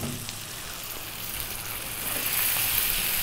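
Drained cassava being stir-fried in a pan gives a soft, steady sizzle with faint scraping, growing a little louder toward the end.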